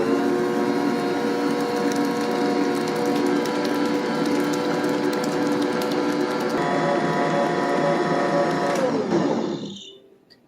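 An electric mixer whirs steadily as it beats egg whites, a loud close mechanical drone that runs evenly before spinning down and stopping near the end.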